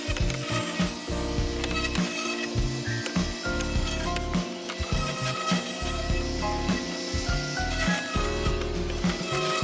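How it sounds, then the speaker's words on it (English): Plywood edge banding is sanded by hand on a workshop table saw build, a steady run of rhythmic rasping strokes up close with no speech. "More sanding on the edge banding that's going to hide the open and exposed ends on the plywood"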